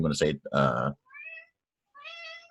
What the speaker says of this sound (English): There's a cat in the room.